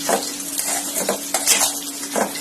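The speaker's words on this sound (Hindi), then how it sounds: "और साथ ही ड्राई फ्रूट हम इसके अंदर डाल देते हैं और अच्छे से मिक्स कर लेते हैं।" Sweet vermicelli (sewaiyan) with cardamom powder and dry fruits is stirred in a pot, with repeated close spoon scrapes and clinks against metal over a faint sizzle, no speech.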